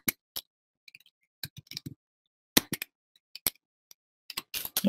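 Scattered keystrokes on a computer keyboard, sharp isolated clicks arriving in short irregular clusters with pauses between, close and fairly quiet, no voices.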